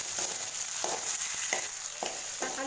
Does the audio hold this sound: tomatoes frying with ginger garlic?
yes